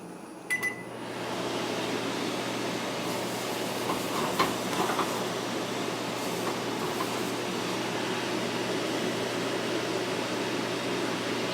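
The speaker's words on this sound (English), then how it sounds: "I gotta turn the exhaust fan on because it's gonna start getting real smoky here." A kitchen range exhaust fan runs steadily with a constant broadband whoosh and low hum, close and moderately loud, while a cast iron skillet is being seasoned on the stovetop; a few faint clinks sound early on.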